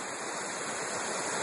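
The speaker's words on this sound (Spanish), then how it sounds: "Este es el río que forma... va por como una caverna en el bosque." A river runs through a cave-like forest gorge near a hidden waterfall at El Bolsón, producing a steady, close, full rush of water that holds constant with no voices.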